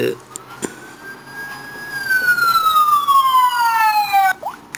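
A police siren wails in a long rising-then-falling sweep, loud and near, over faint traffic noise.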